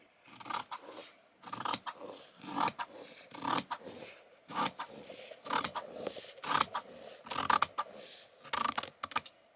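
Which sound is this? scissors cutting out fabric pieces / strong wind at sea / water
scissors cutting out fabric pieces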